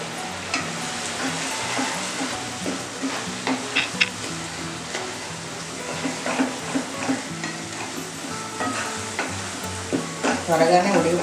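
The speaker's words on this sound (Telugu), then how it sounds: "దాంట్లో కొంచెం గోంగూర ఉడుతుంది." Gongura leaves cooking in their own water in a pan for a village-style roti pachadi, with steady close sizzling and repeated stirring scrapes throughout, loud and continuous.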